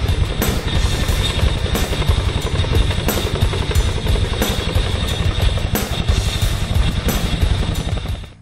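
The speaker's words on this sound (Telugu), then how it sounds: "అపాచీ పోరాట హెలికాప్టర్లు, అతి బరువైన వస్తువులను చేరవేసే చినూక్ హెలికాప్టర్లు రాత్రివేళల్లో సరిహద్దుల వద్ద చక్కర్లు కొడుతున్నాయి" Indian Air Force Apache attack helicopters and heavy-lift Chinook helicopters flying at night near the China border, making a loud, close, continuous rotor chop with rapid regular beats and engine whine, with no voices.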